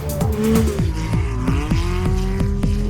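A Kimera EVO38, a reborn Lancia, revs hard and nearly spins, its engine note rising and falling through rapid shifts while the tyres squeal, loud and close.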